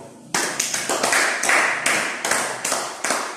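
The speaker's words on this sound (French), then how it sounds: "Applaudissez encore." An audience claps in a series of strong, evenly spaced bursts, loud and close, each burst a wash of hand claps repeating in a steady rhythm.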